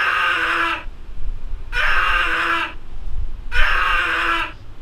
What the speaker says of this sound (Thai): สมมุติเสียงกรีดร้องแล้วกันนะฮะ